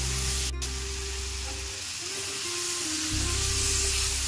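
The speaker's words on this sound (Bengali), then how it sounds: "একটু লাউয়ের সাথে হলুদ আর লবণটাকে নাড়াচাড়া করে নিই।" Chopped bottle gourd with turmeric and salt fries in a pan over high gas, a steady close sizzle while a utensil stirs it, with a short scrape near the start.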